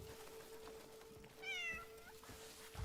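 A cat in the Crimson Desert video game meows once, a clear drawn-out call in the middle against a steady hum and soft game ambience.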